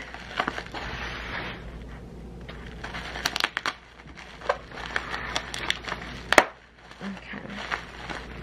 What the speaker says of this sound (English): Okay, so I'm gonna just unwrap everything and go from there.